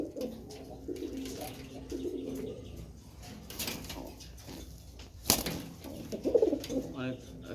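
Silver pigeons coo softly and repeatedly at close range, mixed with rustling and a single sharp click partway through.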